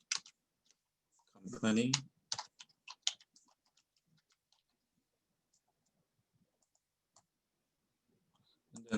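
Quiet, sparse clicking of keys on a computer keyboard, soft and close, heard after a short spoken word, with long pauses between the taps.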